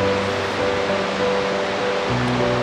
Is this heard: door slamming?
no